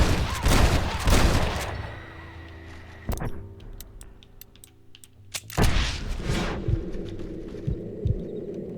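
Anti-air gun fire in Red Dead Redemption: heavy, rapid bursts of shots at the start, then a quieter stretch of sparse clicks and reports before another loud volley and rumbling fire.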